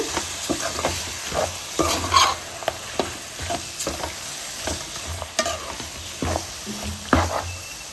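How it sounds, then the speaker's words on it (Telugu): Chicken being stirred into a green chili curry masala in a pan, with frequent brisk scraping and mixing strokes over a steady sizzle, loud and close with no voices. "ఈ మసాలా అంతా బాగా చికెన్ బాగా కలవాలి"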